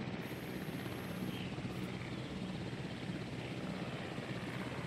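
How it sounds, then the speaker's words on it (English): Helicopter carrying a dinosaur in the Jurassic World Evolution game, a steady whirring rotor and engine drone held at constant level for several seconds, with no voices. "it's such a big helicopter for such a small dino"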